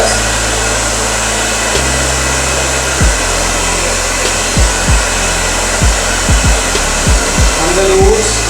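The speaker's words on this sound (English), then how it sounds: "So let's hair dry it now." Hair dryer blowing a steady, loud airflow across men's medium-long hair being styled into a slicked-back undercut, with a continuous roar and a few brief low thumps as it moves around the head.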